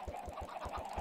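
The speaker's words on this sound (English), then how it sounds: "Hopefully these chickens ain't too loud." Minecraft chickens cluck in a quick, regular series of short, soft pulses, about six in a second, quiet and close.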